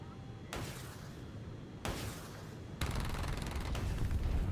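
Missile launches in War Thunder, a sequence of sudden roaring bursts that step up in loudness, the last one sustained and dense, over a low steady background.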